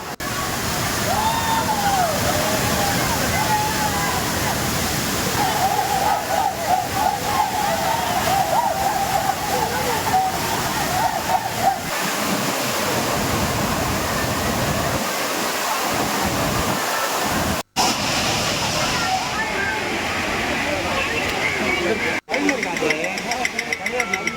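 Thirparappu waterfall in Kanyakumari, crowded with people bathing during a festival outing: a continuous broadband roar of falling water fills the whole stretch, loud and close, with a voice talking over it in places.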